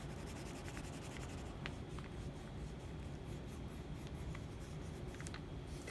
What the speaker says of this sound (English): So for the crust, what I like to do sometimes is color hard along the edge of things, like right on top of my pencil lines